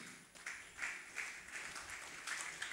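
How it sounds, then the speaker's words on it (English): A church congregation gives faint, sparse clapping, a few scattered hand claps in irregular bursts rather than full applause, heard quietly in a large room. "So you are even stingy with clapping for Jesus."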